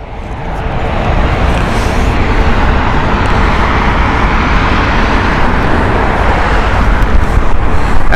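An airliner arriving from Rome flies through thick fog at Heathrow, a steady broad engine roar that swells in over the first second and then holds loud and unbroken, with no one speaking.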